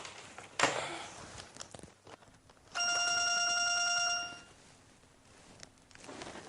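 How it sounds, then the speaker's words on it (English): A telephone rings in one steady electronic burst of about a second and a half. Footsteps and room noise sound before and after it, and no voice is heard. "Linda, the phone is ringing."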